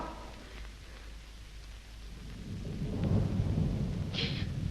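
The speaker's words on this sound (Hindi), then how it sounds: "अभी बिजली कड़की थी ना, जब भी कोई जोर का धमाका होता है" A deep rumble of thunder builds over steady rain, swelling louder toward the end with a brief crackle at the top.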